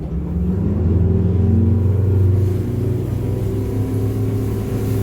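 A Duckworth 28 Offshore boat runs on its outboard motor, a loud, close, steady low engine drone with harmonic hum that swells briefly then holds level, with no voices over it.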